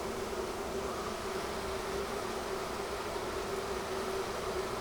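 Honeybees swarm around an opened beehive in winter in Georgia, giving off a dense, steady buzzing hum that holds close and even throughout with no talking.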